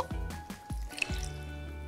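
Water poured onto soaked dates for homemade energy bars, a few distinct wet drips and splashes landing in separate bursts, close and fairly quiet, followed by a soft trickle.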